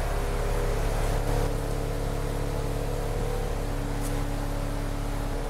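A BMW E90 335i with the N54 twin-turbo engine idles in limp mode, a steady, close mechanical hum with a constant low drone and no revving throughout.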